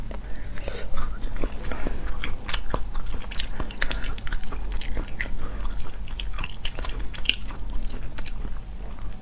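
Close, crunchy bites and wet chewing of raw spicy crab, with repeated crackling shell crunches and smacking mouth sounds continuing throughout.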